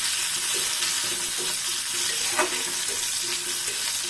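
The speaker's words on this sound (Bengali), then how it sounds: "আমি এগুলো ভেজে নেব" Onions and green chillies fry in a pan for a Bengali red amaranth and shrimp dish, giving a steady, close sizzle with faint clinks and bubbling throughout, no voices.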